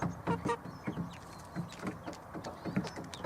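Chickens, Legbar, Rhode Island Red and Marans pullets, cluck softly at close range in short, irregular bursts, with a few overlapping calls and low shuffling between them.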